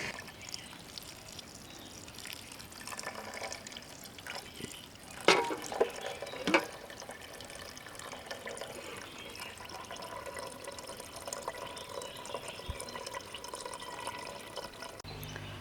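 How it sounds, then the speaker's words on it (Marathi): Water poured over rice in a cooking pot, heard as a soft, continuous trickle and fill with a couple of sharper splashes near the middle, close and quiet, without talking. "आधी आता मी ह्यामध्ये पाणी घालून घेणार आहे."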